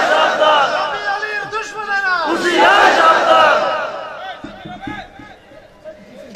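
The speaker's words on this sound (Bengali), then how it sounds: "এখন আপনি স্লোগান দিচ্ছেন তো" A crowd shouts slogans in unison, loud and close, many voices rising and falling together in rhythmic chants, with a few sharp thumps near the end.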